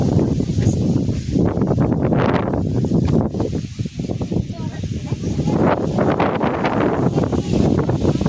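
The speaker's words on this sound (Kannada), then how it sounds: "ಗಾಳಿ ಬಿದ್ದೈತ್ರಿ" Wind blows hard across open fields near a rural temple, buffeting the microphone with rough, gusting rumble throughout while people talk over it.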